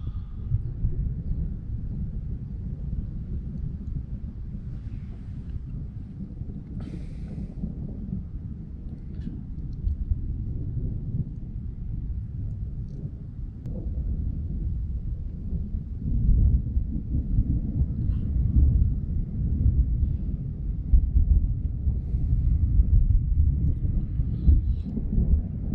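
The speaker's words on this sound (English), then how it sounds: "Thunder's getting louder." Deep, low rumbling thunder from a lightning storm rolls on steadily, swelling louder in the second half, with a faint breezy hiss over it.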